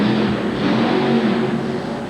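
A monster truck with a Chevy engine and fuel problems revs at a 1988 TNT points championship event, a loud, steady, rough engine roar heard throughout at close range.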